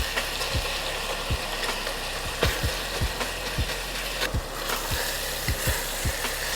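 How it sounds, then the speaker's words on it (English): Ground meat fries in a pan for lasagna with a steady background sizzle, while a utensil scrapes and taps at irregular intervals as the meat is flipped and broken up. Nobody speaks. "we can go ahead and start to flip the meat over and cook the other side as well"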